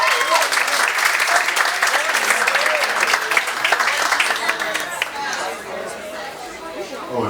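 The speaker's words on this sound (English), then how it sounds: "Give a big round of applause." Loud, dense applause from a large audience at an Elvis Week 2019 event, with cheering and crowd chatter, steady for several seconds before easing slightly.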